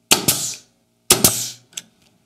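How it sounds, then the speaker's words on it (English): A nail gun drives nails into a wooden picture frame miter, firing in two close double bursts with sharp pneumatic snaps, followed by a softer click, with no talking. "So let's shoot a couple of nails in this."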